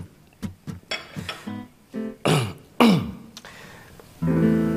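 A man coughs and clears his throat in a series of short, uneven bursts, growing louder and harsher toward the middle, with a longer rough sound at the end, in an indoor drama scene over tea.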